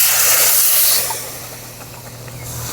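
Water poured into a hot kadai holding sugar for syrup sets off a loud, close steam hiss that eases after about a second into a softer, continuing simmer.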